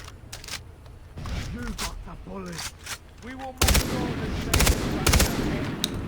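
Automatic rifle fire in the shooter game Far Cry 3 plays as short sharp bursts of gunshots, louder in the second half, interleaved with a voice talking over the action.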